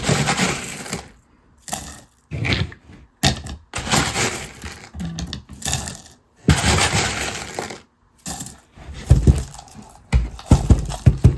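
Rocks and filler poured by hand into a 2-pound rock tumbler barrel: loud, close bursts of clattering, crunching stone in several separate pours, with short silent pauses between them.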